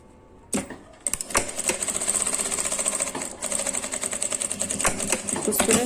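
A domestic sewing machine stitches a fabric essential oil holder, starting after a brief pause with a close, rapid, rhythmic chatter that runs steadily to the end.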